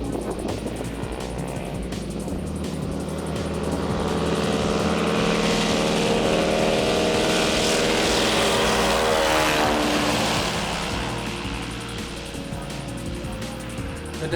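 A de Havilland Beaver floatplane's propeller engine drones over the Arctic National Wildlife Refuge. The buzzing growl swells loudest mid-pass, its pitch shifting, then eases off again as the plane moves away.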